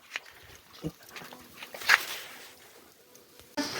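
Dogs make short snuffling grunts and yips nearby, scattered and fairly quiet, with one brief sharper yelp in the middle.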